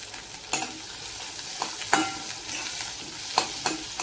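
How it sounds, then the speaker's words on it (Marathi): Onion and curry leaves frying with popped mustard seeds in a pan, a steady close sizzle broken by several sharp spatula scrapes and knocks at irregular intervals. "राई झाल्यावर कांदा टाकते. कांद्यामध्येच कढीपत्ता टाकते."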